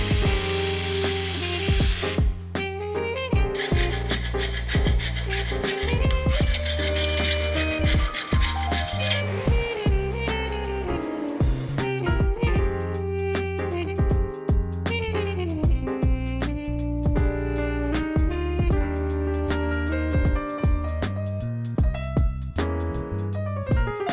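Repeated rasping strokes of a hand saw biting into metal, with shrill scraping and squealing tones, steady and close throughout.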